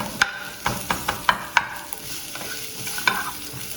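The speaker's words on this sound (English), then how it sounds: "You can start to hear the sizzle." Sliced onions for an onion omelette sizzle in a pan while a utensil stirs them, the scrapes and clicks landing close and sharp in an irregular rhythm over a soft frying hiss.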